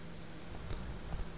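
Horse hooves clip-clopping in The Witcher 3, a few soft, quick steps close by over a low background hum, with no voices.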